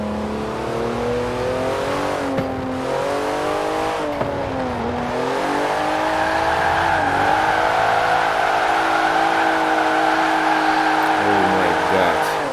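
A Porsche 911 Turbo S at full throttle on a highway, its engine note climbing steadily in pitch with gear changes, loud and close from inside the cabin, with a voice reacting over it.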